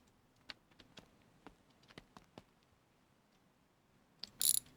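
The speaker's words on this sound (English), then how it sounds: "let's grab our wrench from the toolbox" Tool rummaging in the My Garage video game as a wrench is pulled from a toolbox: a series of sharp metallic clicks and taps spaced across several seconds, ending in a brief louder clatter.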